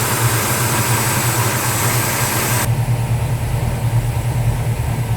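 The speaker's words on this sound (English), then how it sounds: "Boy, this thing has a rumble." Idling 1971 Plymouth Hemi Cuda with a steady, deep low rumble that runs unbroken from start to end, close by and loud, with no voices.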